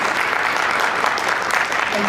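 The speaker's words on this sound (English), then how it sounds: "I'd like a round of applause for these 3 wonderful ladies." An audience at an industry panel session of a conference in Algeria claps for the speakers, producing dense, steady applause that fills the short moment.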